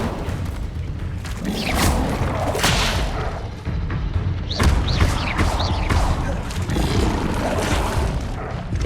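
Incendio fire spell cast again and again in Hogwarts Legacy on hard mode, giving repeated booming bursts and whooshing flares over constant game noise and music, with no voices.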